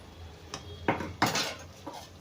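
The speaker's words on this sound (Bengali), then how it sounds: "আমি চাপা ঢাকা দিয়ে দিলাম" A lid is set onto a cooking pan of spinach curry, giving a few quiet metallic clanks and clinks spaced over two seconds.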